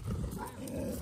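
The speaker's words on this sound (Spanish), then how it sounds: "Me vienen dos de esos perros a atacar," Dogs growling and giving a short rough bark at the start of a trail, a brief, fairly faint snarl heard alone.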